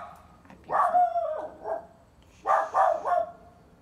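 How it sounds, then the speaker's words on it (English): A dog gives a few short, cute barks indoors, close by: two or three yips near the start, then a quick burst of three more after a brief pause, with no talk over them. "She's got a cute bark though."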